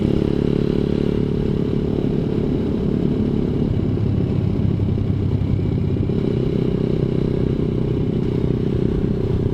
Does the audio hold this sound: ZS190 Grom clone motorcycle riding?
yes